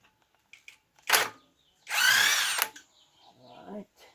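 Power tool fitted with a socket spinning a bolt out on a Peugeot rear-wheel-drive differential, two close bursts of whirring separated by a pause, with faint clicks and a brief low voice around them.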